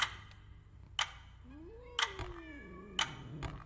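A cat in the video game Sense: A Cyberpunk Ghost Story lets out a single drawn-out, rising and falling meow, heard over a steady ticking clock that beats about once per second.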